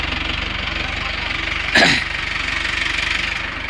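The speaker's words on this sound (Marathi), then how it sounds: "आपला ट्रॅक्टर अर्जुन महिंद्रा" A Mahindra Arjun 555 tractor engine idles nearby with a steady, rhythmic low thumping. A brief louder rush of noise breaks in midway.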